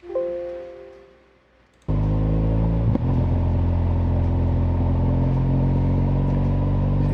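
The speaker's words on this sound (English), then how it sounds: "I'll now mute the voice and play just engine noise" Steady, loud motorcycle engine drone recorded by a DJI Osmo Action action camera while riding, entering abruptly after a quiet start and then holding an even, continuous rumble with no talk.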